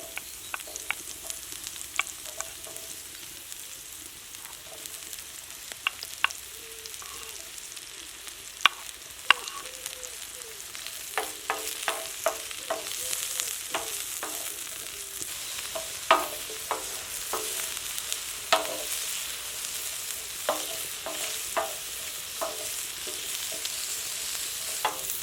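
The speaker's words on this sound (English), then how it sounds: "So this is nice temperature now, just sort of frying it, but not too flash fry." Red onion, sweet pepper and mushrooms fry in a pan at moderate heat, giving a steady close sizzle with frequent sharp clicks and pops as a utensil stirs and scrapes the vegetables.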